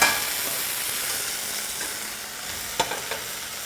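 Shallots sizzle and crackle steadily in a hot pan, a quiet continuous fry with a couple of small clinks near the end.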